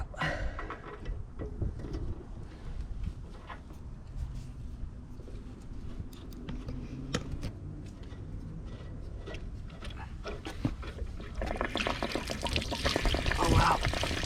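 Water drains from a hot water heater after its anode rod has been pulled out, a steady gushing, splashing pour that grows louder toward the end, with occasional clunks and knocks mixed in.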